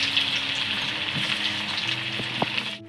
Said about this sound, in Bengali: এরকম করে আলুগুলো লাল লাল করে ভেজে নেব।